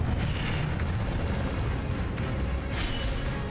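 Fire spell blasting in the Hogwarts Legacy video game, a steady roaring, rumbling whoosh of flame that fills the whole moment at even loudness, with a brief brighter crackle near the end.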